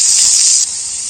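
Potatoes frying in butter in a pan give a loud, steady bright sizzle that eases slightly partway through, heard close and alone.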